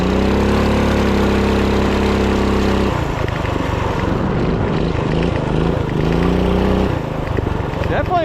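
A minibike engine revs loud and close, a raspy droning note that rises and falls as the throttle is worked, briefly dropping before climbing again.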